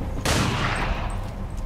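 A pistol shot from XCOM 2: War of the Chosen rings out as a sharp, loud crack with a long, decaying tail and a brief echoing rumble after it.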